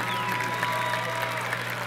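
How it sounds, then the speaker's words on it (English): Stadium crowd at a high school football game applauding the graduating marching band: a steady wash of distant clapping and crowd noise with a tonal hum beneath, even and unbroken throughout. "let's have another huge round of applause for the Leander High School Marching Band graduating class of"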